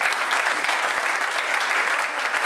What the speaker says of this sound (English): I just want to give Robbo a round of applause.